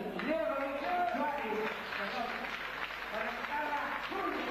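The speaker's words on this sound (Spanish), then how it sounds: "Lo vamos a recibir con el aplauso que se merece" An audience applauds to welcome a musician at a tribute concert for Argentine popular music. The steady clapping runs under someone speaking over it.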